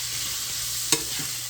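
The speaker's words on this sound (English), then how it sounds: "continue frying this up" Cabbage and sausage fry quietly in a pan with a soft continuous sizzle, broken by a single sharp clack of a utensil stirring near the middle.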